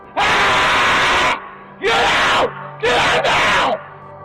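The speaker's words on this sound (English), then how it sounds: "This intruder was screaming at the top of his lungs" A male intruder inside a home at 4 a.m. screams at the top of his lungs, captured on a doorbell camera: three long, raw, loud yells, the last broken into two bursts, with short silent gaps between.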